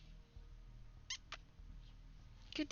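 A cat in a community multiplayer game meows two short times in the middle and once more near the end, fairly close, over a low, steady background hum.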